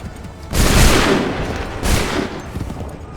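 Musket volley gunfire from the Assassin's Creed 3 game rings out as a loud, rumbling burst of many shots, then a second volley about a second later, each trailing off into echo.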